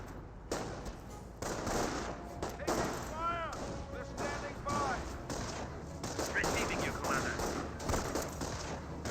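Company of Heroes 1 battle between US and Panzer Elite forces: bursts of rifle and machine-gun fire and dull thuds, mixed with radio-style unit voice callouts.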